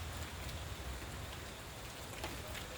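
Steady rain falling at night in dense jungle, a soft, even wash of drops pattering on leaves and ground, faint and continuous with no voices.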